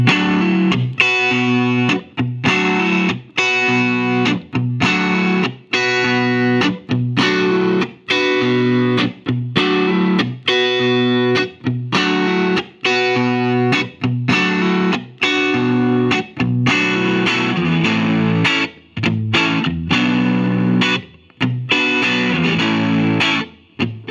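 Distorted electric guitar, a 1978 Fender Telecaster on its neck pickup, plays rhythmic strummed chords through a Fender '64 Custom Deluxe Reverb amp, steady and loud with short gaps between strums, no voices.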